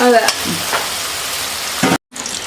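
Beef with plantain and chilli frying in a wok over steady broadband sizzle, with a few sharper scraping stirs and a brief cut near the end.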